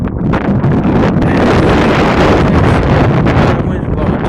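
Wind gusts along the Schuylkill River bank, buffeting the microphone with a loud, continuous roar that rises and falls slightly throughout.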